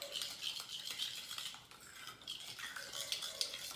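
Cooking oil and seasoning are mixed together in a bowl, producing faint, continuous scraping and clinking of a utensil against the bowl at close range with no talking.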